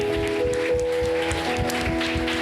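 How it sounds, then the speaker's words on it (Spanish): Churchgoers applaud during a Sunday worship service, a noisy wash of clapping over sustained music and a steady low beat. "Dale un fuerte aplauso al Señor."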